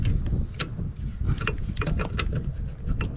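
A GAZ-66 truck wheel is wiggled onto its nuts during a wheel change, producing close, rapid metallic clanks and rattles in an irregular stream.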